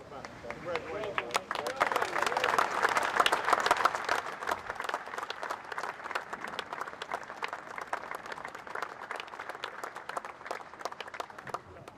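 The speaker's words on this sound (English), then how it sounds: "You got the smattering of applause for the president at Ground Zero" Applause from a crowd at Ground Zero for President Obama, a sustained outdoor clapping that swells early and then continues more evenly, with a faint murmur of voices beneath.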